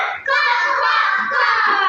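A group of children imitate a chicken's clucking and crowing in a loud, continuous, shrill chorus with no gaps.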